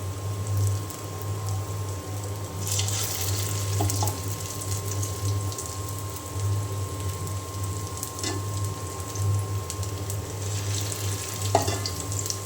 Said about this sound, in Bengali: তেল গরম হয়ে গেলে আমি বড়াগুলি ভেজে নিব।